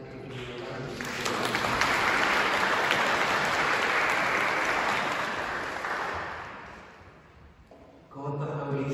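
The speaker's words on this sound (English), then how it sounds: "I'd like to give you a round of applause" A congregation claps warmly in a church after an anthem on Trinity Sunday. The applause swells, holds for several seconds and then fades, and a voice returns just as it dies away.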